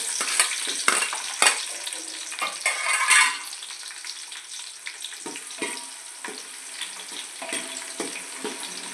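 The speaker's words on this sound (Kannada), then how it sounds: "ಈರುಳ್ಳಿ ಸ್ವಲ್ಪ ಕೆಂಪಗಾಗೋವರೆಗೂ ಫ್ರೈ ಮಾಡ್ಕೊಳ್ಳೋಣ." Two lengthwise-sliced onions fry in hot oil for mutton sambhar, a steady close sizzle with a louder burst early on. Scraping stirs come at irregular intervals.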